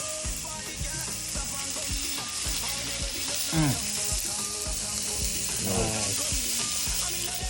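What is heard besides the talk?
chicken burgers sizzling on a coal pot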